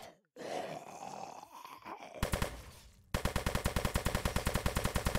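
Gunfire in a zombie shooter video game, with a few separate shots followed by a sustained rapid automatic burst of loud, evenly spaced cracks, after a stretch of groaning game ambience.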